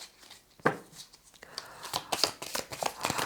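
Tarot cards from an Osho Zen Tarot deck being shuffled, a series of quick, crisp riffles and flicks, close and fairly quiet, with no talk over them.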